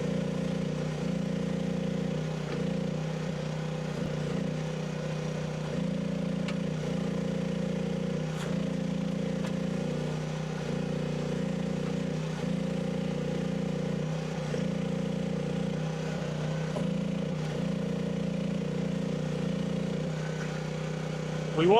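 A Chinese mini excavator runs steadily while digging out a rock, its engine droning at an even pitch for the whole stretch, with faint scraping and knocks of the bucket now and then.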